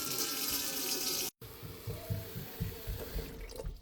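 Hot water runs from a kitchen tap into a cooking pot for beef pho, a steady close splashing rush with a brief cutoff partway through before the flow resumes and fills.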